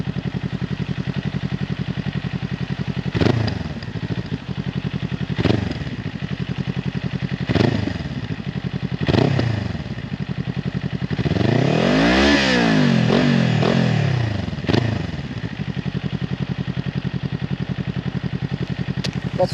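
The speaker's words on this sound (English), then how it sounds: "for all of those that wanted to see, or sorry, hear the note, the Akrapovic note, here we go" A 2021 Kawasaki Ninja 400 fitted with an Akrapovic carbon slip-on exhaust, baffle in, idles with sharp throttle blips, then roars past in a loud rising-and-falling flyby before settling back into idling blips.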